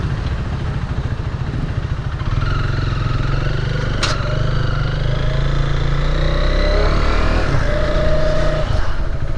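A KTM 390 motorcycle on a fresh set of knobby tires rides through the streets of Kathmandu, its engine droning steadily and loudly close by, with the pitch rising and falling through gear changes and passing traffic noise around it.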